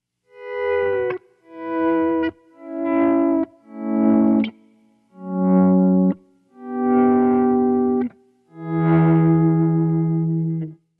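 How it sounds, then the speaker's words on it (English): Guitar played through a Keeley Synth 1 Wave Generator pedal set for a slow swell. Seven distorted, synth-like notes each fade in gently, sustain, then cut off, each a little lower in pitch than the last. "So that's what gave us the beginning of our synth sound, is kind of the slow gear, or that swell in thing"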